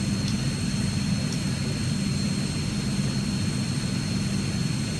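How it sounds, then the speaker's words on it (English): Engine number one of a C-160 Transall turboprop starts up, heard as a steady, dense turbine roar with a high whine over it, loud and continuous inside the aircraft, with no talk. "Start light is out, let's engage number one."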